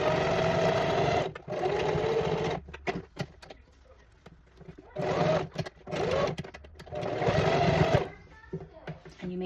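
A sewing machine runs in several bursts while stitching a blanket cocoon with ribbon ties, loud and close, with short stops and taps between the stitching runs.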